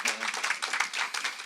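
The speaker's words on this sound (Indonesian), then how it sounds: "Tepuk tangan dong." A congregation at New Identity Church claps together in a short, dense burst of applause close by, with talking mixed in.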